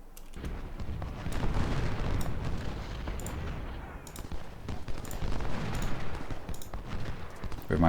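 Battle din from a Civil War strategy game, with dense musket and artillery gunfire rumbling continuously and loudly throughout, booming low-end bursts layered over crackling volleys.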